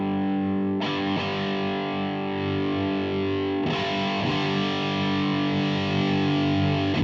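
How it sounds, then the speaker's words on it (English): Electric guitar through a Zuta GBG 120 amplifier on its high-gain third channel, heavily distorted sustained chords struck twice, with the first ringing for a few seconds before a second hit, loud and alone. "Channel 3 is where we start to really get into the high gain of this amplifier."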